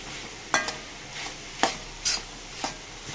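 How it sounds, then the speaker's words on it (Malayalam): Ivy gourd thoran is stirred in a pan on a medium flame. A handful of spaced utensil scrapes stand out over a faint, steady background sizzle, and nobody speaks. "മൂടി തുറന്നൊന്ന് ഇളക്കി കൊടുക്കുക നല്ലപോലെ ഇളക്കി കൊടുക്കാം"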